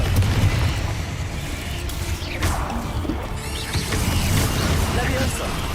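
A Confringo blast spell goes off in Hogwarts Legacy combat, giving a loud crashing burst around the middle, with rumbling game noise and shouted voices around it.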